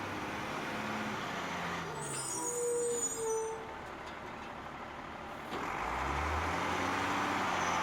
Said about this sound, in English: the garbage truck's coming through